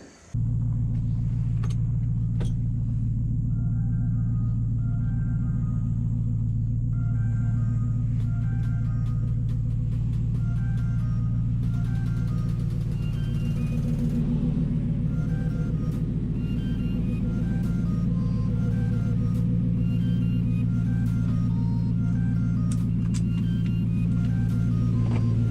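Nissan Titan pickup truck engine starting with a quick crank and catch, then idling in a garage with a steady deep low rumble and faint ticking clicks, continuing evenly throughout.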